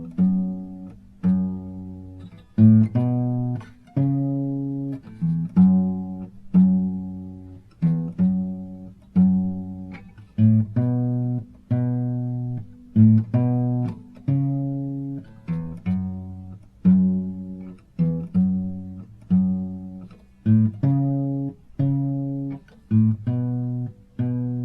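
Bass line of Tracy Chapman's "Give Me One Reason" played on guitar, a steady rhythmic run of plucked notes with dominant notes, repeating phrases over about twenty-five seconds, clear and alone with no talking.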